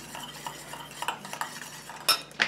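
A hand cream emulsion is stirred in a small container, with soft, irregular scraping and light clinks of a utensil against the sides, quiet and close, ending in two sharper taps.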